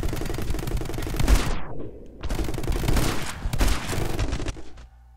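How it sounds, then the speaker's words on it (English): Shotgun blasts in a first-person shooter come as heavy, booming bursts in quick succession with short gaps between volleys, loud and close, ending in near silence. "Shotgun, yes."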